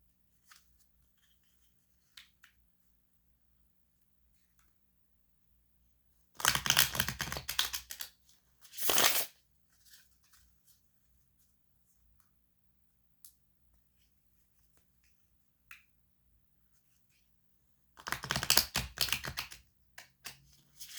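Two quick riffles of a card deck being shuffled, each a dense papery burst lasting about two seconds, separated by long quiet stretches with a few small taps.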